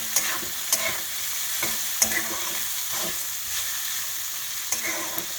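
Beans and vegetables stir-fried in a pan for oats poha give a constant close sizzle, broken by a few sharp scrapes and taps of the spatula against the pan.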